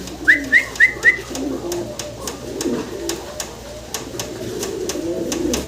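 Fancy Barhama pigeons coo nearby, a run of four quick rising calls followed by softer murmuring coos over light background noise.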